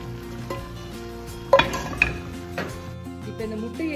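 Fried eggs slide into a simmering South Indian egg masala curry in a pot, with a few sharp clinks of a utensil against the pan over a low, steady bubbling sizzle.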